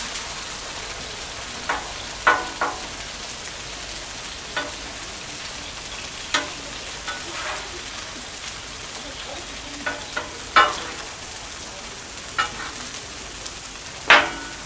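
Taco shells and carne asada sizzle and fry in a pan, a steady soft crackle punctuated by occasional sharper pops and spatters, close and fairly quiet with no voices.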